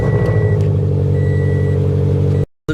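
A Subaru BRZ / Toyota 86 sports car engine idling steadily, a low, even mid-pitched hum up close for a couple of seconds before cutting out.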